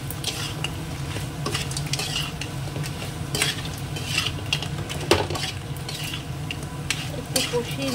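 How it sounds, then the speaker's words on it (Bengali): Crab is stirred into a spice paste in a hot pan, a steady sizzle of frying under repeated scraping and clinks of a spoon against the metal, close up and continuous. "এবার কাঁকড়াটা দিয়ে দিই।"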